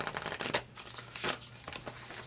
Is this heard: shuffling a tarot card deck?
yes